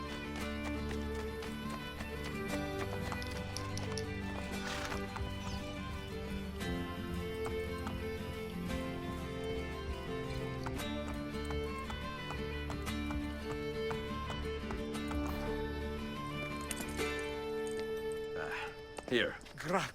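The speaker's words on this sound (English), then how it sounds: "I can no longer keep up with the horses." Horses gallop in Assassin's Creed Brotherhood, a dense run of hoofbeats clip-clopping under game music throughout, with a neigh near the end.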